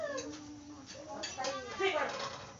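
A cat meows several times nearby, rising and falling cries, with people talking softly around it.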